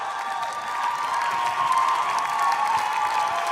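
Audience applause at Ukraine's Vidbir 2026 final, a national song contest: a steady wash of clapping from a large crowd, with faint cheers mixed in, holding at an even level throughout.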